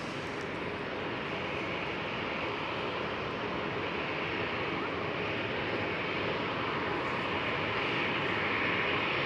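A KLM Cityhopper Embraer E195-E2 jet departs Schiphol Amsterdam with a steady, loud, broad engine roar that holds unbroken throughout and swells slightly toward the end.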